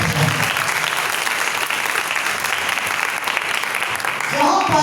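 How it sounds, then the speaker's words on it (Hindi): Loud, sustained applause from a church congregation during a sermon, a dense, even roar of clapping that continues throughout, with a voice rising briefly near the end. "जोरदार ताली बजाएं"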